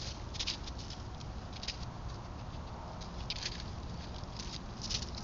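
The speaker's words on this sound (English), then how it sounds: "Foxes don't weigh much, and you can hear this guy walking." A lightweight fox walks at night, caught by a Campark TC30 trail camera as a faint, soft patter of footsteps over a steady background hiss.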